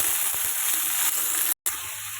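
Potatoes sizzle in hot oil with lightly fried onion, garlic and green chillies, a steady close, bright hiss that cuts out briefly near the end before resuming.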